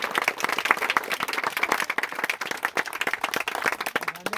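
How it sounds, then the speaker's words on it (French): An audience at a French speech event gives a round of applause. The clapping is dense, steady and fairly close, and it continues evenly for several seconds with no voices over it. "ça mérite tous nos applaudissements"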